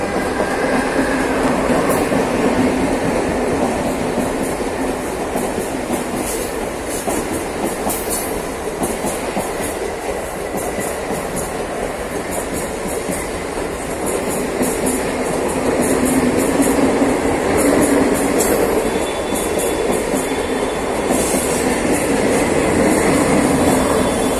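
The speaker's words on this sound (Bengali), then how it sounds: "মুম্বাইতে দু ধরনের ট্রেন চলে, একটা হচ্ছে স্লো ট্রেন, একটা হচ্ছে ফাস্ট ট্রেন।" Continuous loud roar and clatter of a Mumbai local train in motion, with steady rail rumble and rattling carriages, swelling slightly near the end, with no talk.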